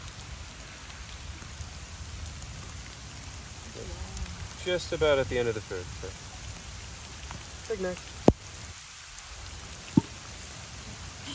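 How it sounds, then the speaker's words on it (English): Steady rain patters outdoors at a crocodile and alligator training area, a constant hiss broken by two sharp knocks, while a person speaks briefly over it. "it's starting to rain heavier and heavier"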